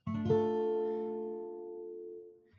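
A single strummed minor triad on the top three guitar strings rings out cleanly and slowly fades over a couple of seconds, played alone.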